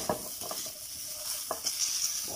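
Chilies, shallots and garlic dry-roasting in a pan for shrimp chili paste: a faint steady hiss with light scraping and stirring taps, close but quiet.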